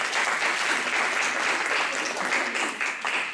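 A conference audience at a women's leadership event in Lyon applauds loudly, a thick, continuous roar of clapping that holds steady with slight swells, close and filling the room with no voices on top.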